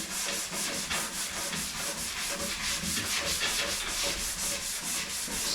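Car body filler being sanded by hand on the fender of an XA Falcon GT, a steady rhythmic back-and-forth scrape of abrasive paper over hardened filler, close and continuous with no talk.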